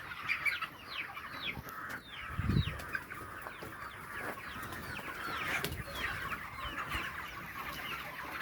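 Many chickens cluck continuously in a steady, busy chorus on a broiler chicken farm, with a brief low thump partway through.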